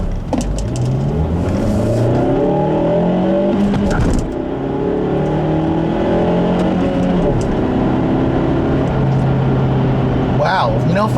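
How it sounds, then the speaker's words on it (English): A 2014 Mazda3 with a 2-liter four-cylinder and six-speed manual pulls hard in a loud, close engine roar that climbs in pitch, drops at the shift into second gear with a brief tire chirp, then climbs again while a voice talks over it. "I was a little surprised by the little bit of wheel hop and second gear tire chirp when I shifted to second there"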